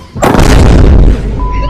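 A large firecracker bomb goes off with a single loud, close blast that booms and rumbles for about a second before fading into a lingering roar, with no talk over it.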